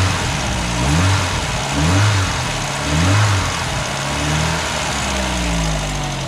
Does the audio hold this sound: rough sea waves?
no